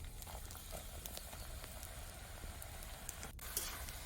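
Jackfruit seed snack sizzles softly in hot oil, a faint steady crackle and patter with a few sharper pops near the end.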